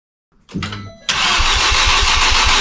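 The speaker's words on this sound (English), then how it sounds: "We're just going to see if it'll crank." A Ford Fiesta ST engine, just swapped in, cranks over with a brief whir, then settles into a loud, steady rhythmic cranking pulse heard up close with no talking.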